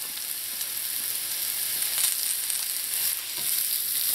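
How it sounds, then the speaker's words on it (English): Mushrooms fry in a pan in leftover fat, butter or oil, giving a steady close sizzle with faint crackles and stirring throughout and no talking. "You're going to cook the mushrooms."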